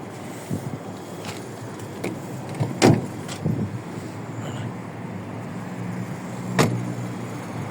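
Steady cabin road noise from an intercity taxi car driving with passengers aboard, a continuous low drone broken by a few light knocks and clicks, with no one talking.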